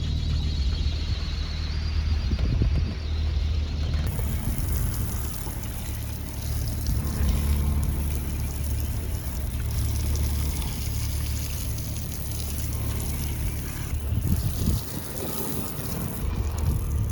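A hose washes dust off a dinghy at an anchorage on Spain's Costa Blanca after a dusty wind storm, a continuous rushing and splashing spray lasting throughout, close by, with wind noise and no talk.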